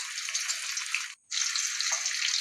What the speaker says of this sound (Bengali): ইলিশ মাছ খুব একটা বেশি ভাজার দরকার নেই, হালকা ভাজলেই কিন্তু টেস্টটা দারুণ হবে